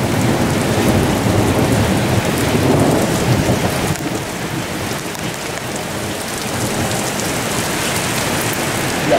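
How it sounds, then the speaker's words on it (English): Steady, heavy rain pours down during a thunderstorm, with low rolling thunder woven into the dense hiss, loud and continuous without any talking. "Look at this storm coming in here."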